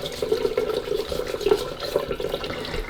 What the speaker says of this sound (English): So I'm just going to use some warm water on this and an old toothbrush.